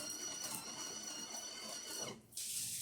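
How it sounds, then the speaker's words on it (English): A Breville La Specialista espresso machine's built-in grinder grinds coffee on a fine setting, a steady high-pitched mechanical whir that runs continuously, then cuts off near the end as a brief burst of hiss follows. "We're going to let it finish grinding."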